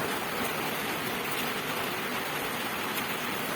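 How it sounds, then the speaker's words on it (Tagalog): Rain falls steadily as a continuous, dense hiss of drops on surfaces, even in loudness throughout, with no voices. "maghapon na naman papatak ang ulan ngayon"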